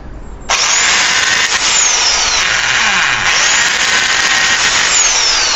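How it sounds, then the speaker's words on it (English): A power drill whirs loudly and steadily after a brief quiet start, a sustained high whine with slight pitch shifts as it bores a pilot hole through carbon fibre outdoors. "we're going to drill a pilot hole"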